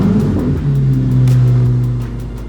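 A Chevrolet Corvette race car at Watkins Glen revs hard under acceleration, a loud, close engine drone with a rising tone and heavy low rumble throughout.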